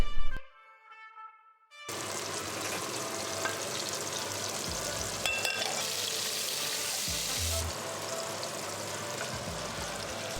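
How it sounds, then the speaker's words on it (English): Ingredients toasting in a clean, hot, dry pan while being shaken constantly. After a short near-silent start, a steady dry hiss rises and holds, with occasional rattling shifts from the shaking, close and without speech. "we're gonna throw them in a clean hot pan and we're gonna start toasting them. Don't stop shaking them"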